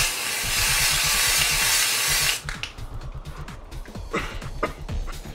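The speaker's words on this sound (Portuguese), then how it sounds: "começando a preparação de pele com esse primer aqui. Spray, né? Da NYX." NYX makeup primer spray hisses from an aerosol can in one long continuous burst lasting about two seconds, close and fairly loud, then gives way to quieter handling and rustling noises.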